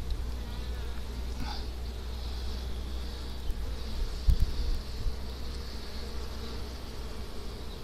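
Honey bees buzz steadily around an open hive during a summer beehive inspection, a close, continuous drone with faint handling noises and a brief knock partway through.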